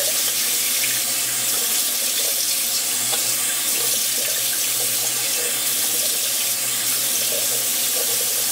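A bathroom tap runs steadily for the whole stretch while someone washes their face at the sink, with water splashing continuously and no voices.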